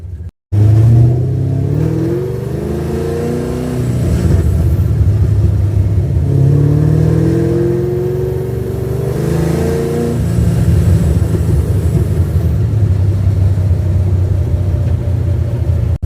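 An old car with new bullet mufflers, parked since 1999, is driven for the first time in 27 years. The engine revs loudly and repeatedly in rising, falling pulls, with a deep rumbling drone up close.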